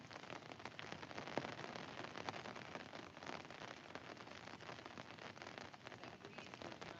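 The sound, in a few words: rain falling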